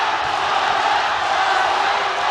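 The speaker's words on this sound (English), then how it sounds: "This crowd going bananas here in Tokyo. They are chanting Aung La's name." A loud, dense crowd at a fight event in Tokyo roars and chants a fighter's name, a continuous wall of cheering with no break.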